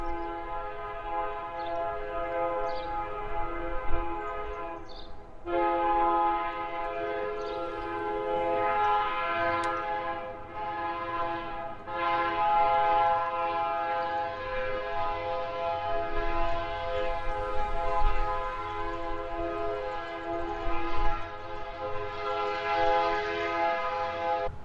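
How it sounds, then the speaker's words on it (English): A train horn sounds in long, sustained blasts over the rumble of a passing freight train, moderately near and continuing for over twenty seconds in Yazoo City, Mississippi. "That train horn is a reminder that time keeps rolling along."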